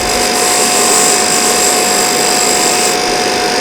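Power tool sanding a wooden pyrography Scrabble-style sign, a loud continuous high-pitched whine with steady grinding texture, close up and without speech.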